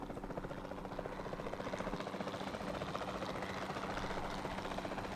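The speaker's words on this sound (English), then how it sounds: "Then the sensible thing is to take a capture team helicopter." A capture team helicopter in the Jurassic World Evolution 2 video game, its rotor chopping and engine droning in a steady, even wash, faint and continuous, with no speech.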